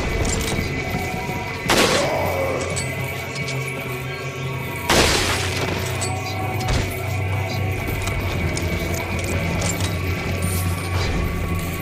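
Gunfire in the video game Resident Evil 4 HD: two loud, sharp shots a few seconds apart ring out over a steady low in-game background hum.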